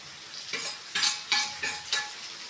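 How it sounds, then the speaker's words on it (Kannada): Garlic sizzles softly in a hot pan while a spoon stirs it in five distinct scraping sweeps, each swelling over a quiet, steady fry, close and without speech. "ಬೆಳ್ಳುಳ್ಳಿ ಹಾಕೋತೀನಿ ನೋಡ್ರಿ."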